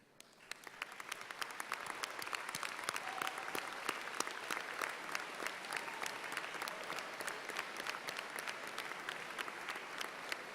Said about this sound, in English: please stand so that we can recognize them with a round of applause